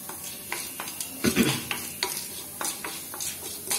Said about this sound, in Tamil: உளுந்தம்பருப்பு வறுபட்டுட்டு இந்த வரமிளகாவை போட்டுக்கலாம்.